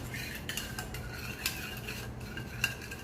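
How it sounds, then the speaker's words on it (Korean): A spoon stirs bulgogi marinade of sesame salt, pepper and sesame oil in a bowl, giving a steady scraping and clinking of metal against the dish, close up and without speech. "불고기 양념 만들어가지고 잘 섞어주세요"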